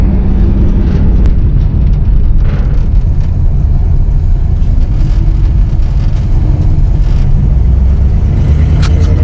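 A 1959 Rambler drives with a loud, rough engine rumble and heavy wind-buffeted road noise that stays constant throughout, close and dense with no clear voices.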